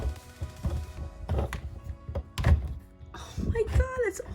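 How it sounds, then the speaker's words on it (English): A toy alien's skull is pried and cracked open with a few dull, close thunks and creaks, mixed with someone talking excitedly. "now we're gonna crack open his skull"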